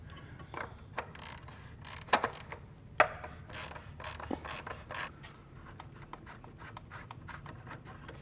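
A 32mm socket on a ratchet loosening the oil filter housing of a B48-engined F55/F56/F57 Mini, heard as close, quiet rhythmic clicking and rubbing with a couple of sharper metallic knocks.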